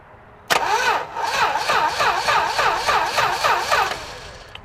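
A car engine cranks via a wire run from the starter solenoid, then catches and turns over in a fast, rhythmic chugging loop that continues loudly for several seconds before cutting off.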